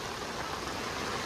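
Heavy rain pouring down in Huajuapan de León, a steady dense broadband wash of water with no pauses, close and fairly loud, with no voices over it.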